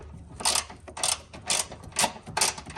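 Ratchet backing out an 8mm earth strap bolt on a Ford Barra engine, five evenly spaced bursts of close clicking at a steady rhythm, fairly quiet.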